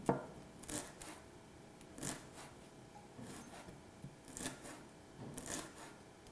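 A knife slices leaves thinly for a Thai curry, with about five brisk, separate cutting strokes spaced roughly a second apart, close and fairly quiet, and no talking.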